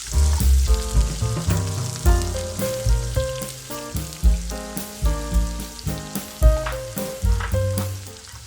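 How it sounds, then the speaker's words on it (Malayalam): Chopped onion is sautéed in hot oil with popped mustard seeds in a pan, cooking for upma. A loud, steady sizzle fills the pan, with rhythmic scraping and stirring strokes on top and no talk. "ഇതിലേക്ക് അരിഞ്ഞു വെച്ച് സവാളയിട്ട് വഴറ്റാം."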